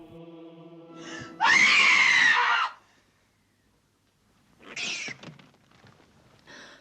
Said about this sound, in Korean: 영화는 수많은 미라의 모습과 한 여인의 비명으로 시작됩니다.